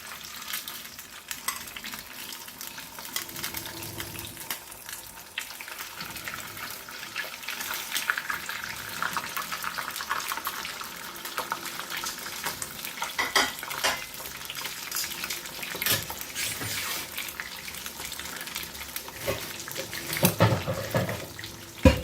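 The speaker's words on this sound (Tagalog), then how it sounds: "I-deep fry natin guys para masarap yung pagkaluto." Fish deep frying in hot oil for a Filipino Ilocano dengdeng dish gives a steady, busy sizzle and crackle throughout, with scattered sharper pops and occasional clinks of cookware, close and moderately loud, with no talking.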